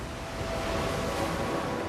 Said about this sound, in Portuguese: Ventos fortes começam a soprar ao redor do navio de Ulisses